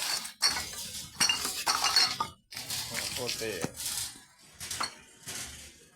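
Glass bottles clinking and knocking against each other in short bursts, close by and fairly quiet, with people talking over the clatter.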